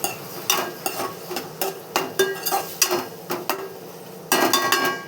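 Spoon stirring tomato pieces in a cooking pan, giving repeated scraping clinks in an irregular rhythm, close up, with a faint sizzle underneath.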